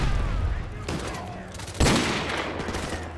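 Gunfire in Call of Duty: Modern Warfare Remastered on PC, with bursts of shots and a sharp, louder blast near the middle, set against steady game ambience with faint talk.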